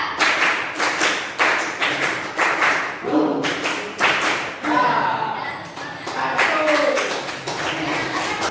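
Students in a classroom play a counted clapping game, with groups of claps and taps in short rhythmic bursts mixed with voices and some thuds, moderately loud and close.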